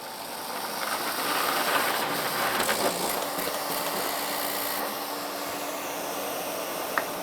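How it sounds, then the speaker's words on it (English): An air-fed, bottom-fed paper scoring machine in a print bindery runs sheets through, giving a loud steady mechanical whir with a rattling, ratchety texture and a sharp click near the end. "And we'll turn this on and watch a few go through."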